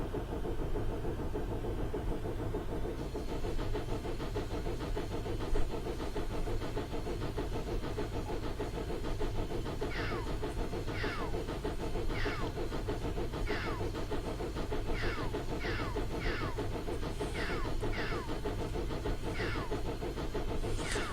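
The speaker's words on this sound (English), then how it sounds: "the sound is the steam exhaust of the steam-powered air compressor to charge the air tanks" A steady low mechanical rumble runs throughout from a Southern Pacific Cab Forward steam locomotive in Train Simulator; about halfway in, sharp hissing exhaust puffs from its steam-powered air compressor begin and repeat at a fairly regular rhythm.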